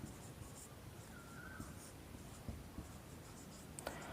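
Pen or pencil scratches faintly and closely on paper as a Bengali-language trigonometry lesson is worked out by hand, with soft intermittent strokes in a quiet room.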